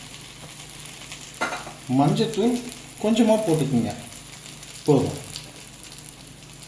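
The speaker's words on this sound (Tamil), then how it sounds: "நல்ல எண்ணெயில் பொரிக்க வைங்க" Whole spices such as cinnamon and clove with chili and coriander powder frying in sesame oil for paneer butter masala, a soft continuous sizzle with stirring scrapes, under a voice giving instructions.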